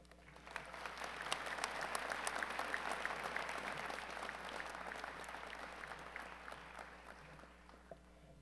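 Sustained audience applause at a Northcentral Technical College fall 2017 commencement ceremony, a dense wash of clapping that swells early, holds steady for several seconds, then slowly thins out near the end.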